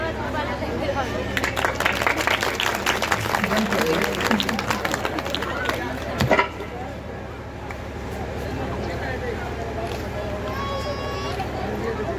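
A crowd at a religious devotional gathering applauds vigorously for several seconds with dense, close clapping, which then fades into background murmur.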